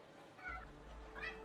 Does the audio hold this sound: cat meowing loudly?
yes